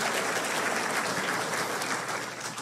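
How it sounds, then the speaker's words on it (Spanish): A church congregation gives loud, sustained applause during a service, a dense steady patter of many hands clapping that fades slightly toward the end. "dele un fuerte aplauso al Todopoderoso"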